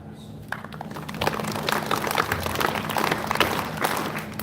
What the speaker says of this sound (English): Receive with the clap.